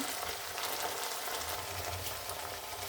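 Slit green chillies with garlic, ginger and chilli paste hitting hot oil for a coriander rohu fish curry: a dense, close, steady crackling sizzle running unbroken throughout, with no talking.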